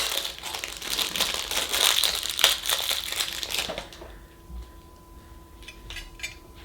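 A tea light candle is unwrapped from its thin foil cup at close range, giving a dense crinkling and crumpling rustle for about four seconds that then drops to a few faint crinkles.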